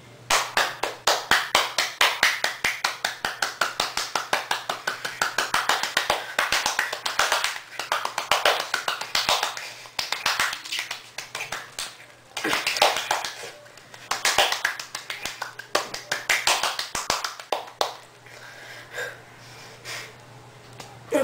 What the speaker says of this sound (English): I'm just gonna clap